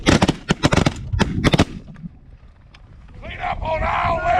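Shotgun volley during a large group goose hunt, several sharp blasts fired in quick succession close by, followed by wind buffeting the microphone.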